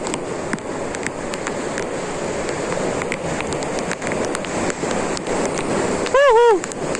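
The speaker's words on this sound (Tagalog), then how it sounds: "Ang lakas ng ulan!" Heavy rain hisses steadily with scattered drop taps, and a wavering whistle-like tone rises briefly near the end.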